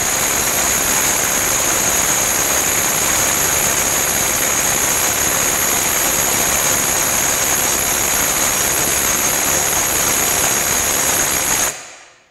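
A DeWalt DCF860 impact driver on a 6Ah XR battery runs in one loud, unbroken high-pitched whine for about twelve seconds, then cuts off abruptly as the tool shuts down.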